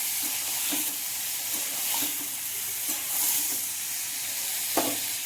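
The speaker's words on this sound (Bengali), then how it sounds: "লাউ আর পেঁপে দিয়ে দিলাম।" Bottle gourd and papaya pieces frying and being stirred in a pan, giving a soft steady sizzle with intermittent scraping stir strokes, fairly quiet and close, with no talking.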